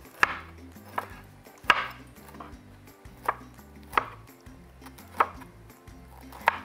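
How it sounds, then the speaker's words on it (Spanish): Broccoli florets are finely chopped with a knife on a board, producing sharp, evenly spaced thuds roughly every half second to second, close and clear with no talking. "También tengo unas flores de brócoli. Voy a picar un poquito más finamente"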